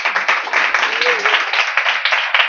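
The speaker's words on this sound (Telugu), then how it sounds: "ఇప్పుడు చప్పట్లు కొట్టాను." Rhythmic hand clapping at a Sunday worship service, steady repeated claps at a moderate pace, close and fairly loud, mixed with a voice speaking at the same time.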